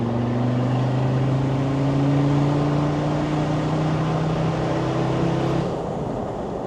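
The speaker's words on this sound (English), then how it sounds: "So let's go second gear, give it some welly. Oh, bit of wheel spin." A Land Rover Discovery Td5 diesel with a VNT turbo accelerates hard in second gear, a loud close engine drone with a rising pitch that holds, then drops off near the end.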